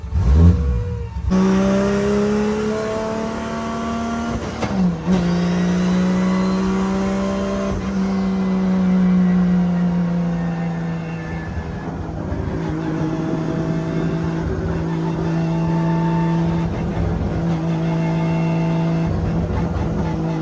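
A car fitted with a 1.5JZ engine cruising down the road, its engine note rising and shifting through several gear changes, close and steady throughout with no talking.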